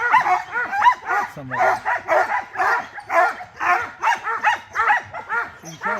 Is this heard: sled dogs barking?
yes